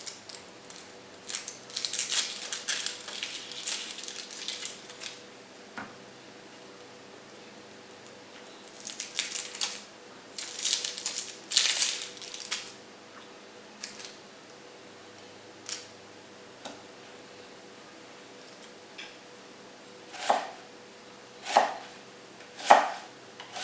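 Knife chopping a yellow onion into small pieces on a cutting board, starting with quick, close, crisp taps in dense bursts, then slowing to a few spaced, heavier single cuts near the end.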